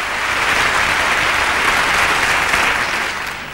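A studio audience at the 1977 Eurovision Song Contest applauds loudly and steadily, a dense wash of clapping that fades slightly at the end.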